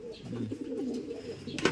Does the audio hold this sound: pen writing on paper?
no